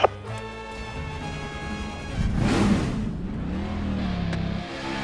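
A stock car engine in the racing game NASCAR 25 cranks and catches, then revs up and settles into a rough, throbbing idle, loud and close with a rising and falling engine note.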